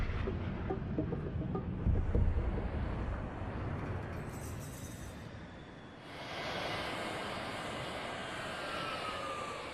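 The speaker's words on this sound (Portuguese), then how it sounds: "Mike Zolensky, um cientista da NASA, envia jatos de grande altitude para peneirar partículas no céu" High-altitude NASA jet aircraft flying overhead, a broad steady engine roar with wind-like rush that swells near the middle and continues at an even loudness.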